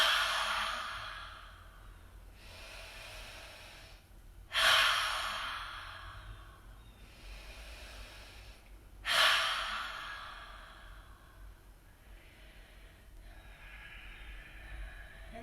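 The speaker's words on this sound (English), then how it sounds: "Inhale through the nose and exhale out through the mouth 3 times" Three slow cleansing breaths during a vinyasa flow session, each a deep inhale through the nose followed by a long, audible exhale through the mouth, close and soft, evenly spaced with quiet pauses between.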